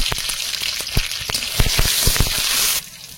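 Dry red chillies, bay leaf and mustard seeds dropped into hot oil in a Sundarban home kitchen, crackling and sizzling loudly and close up, with rapid popping that fades near the end.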